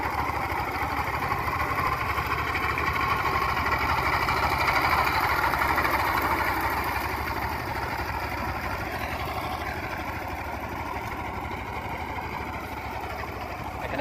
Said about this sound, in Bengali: এখানে পাওয়ার টিলার দিয়ে চাষাবাদ করা হইতেছে